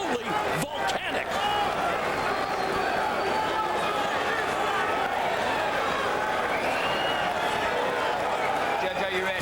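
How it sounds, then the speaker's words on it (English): A cage-fight crowd at the Bank United Center roaring in a steady, dense wall of cheering and clapping, with an announcer talking over the din. "Wait for the eruption of the crowd here at the Bank United Center."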